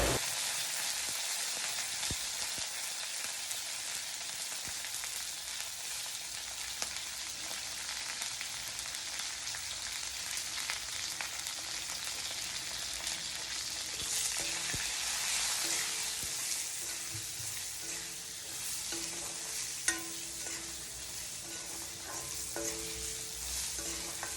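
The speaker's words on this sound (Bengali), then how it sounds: "নুন হলুদ দেওয়ার পর ভালো মতো ভেজে নিয়েছি বেগুনগুলো" Eggplant pieces frying in hot oil with salt and turmeric, a dense, steady sizzle with faint spatula scrapes and stirring taps toward the end, close and continuous.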